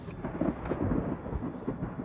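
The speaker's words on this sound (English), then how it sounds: "You can hear the lightning." Deep rumbling thunder from a supercell thunderstorm rolls continuously through a low, dense wash that also carries some rain noise, with no talking.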